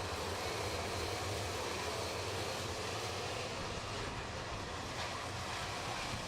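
A pack of X30 junior racing karts accelerates away from a rolling race start at the Shenington kart circuit, making a dense, steady, loud engine roar with no talking over it.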